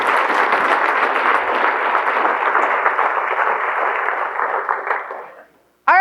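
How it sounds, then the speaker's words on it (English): A crowd at a council popcorn kickoff event gives a round of applause, dense steady clapping for about five seconds that fades out, followed by a brief voice at the very end. "Everybody give Wendy a round of applause."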